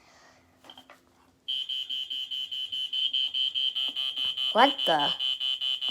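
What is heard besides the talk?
fireX 120-538B smoke alarm test sounding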